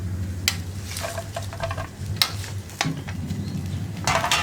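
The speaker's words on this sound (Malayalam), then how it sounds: "ഇനി ഇതെല്ലാം ചേർത്തൊന്ന് ഇളക്കി എടുക്കുക." Fried chicken and coconut being stirred in a pan over a lit flame for Payyoli chicken fry: a gentle sizzle under repeated scraping and clacking strokes of a spoon, close and irregular.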